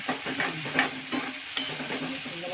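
Vegetables roast in a pan for a traditional village-style bhaji, a close steady sizzle with frequent rhythmic spatula scrapes and stirring strokes, no talk.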